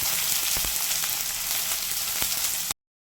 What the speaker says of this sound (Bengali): পেঁয়াজটাকে তেলের মধ্যে ছেড়ে দেবো